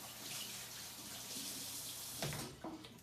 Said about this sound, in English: I'm just gonna rinse my hands off.